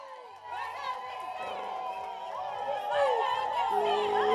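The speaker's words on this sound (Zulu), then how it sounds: "Ngisacela uWard 81 uyishayela ihlombe lapho." A crowd at a community meet-and-greet for Ward 81 cheers and calls out in a lively mix of voices, the noise building slightly toward the end, with ululating and shouting more prominent than any clapping.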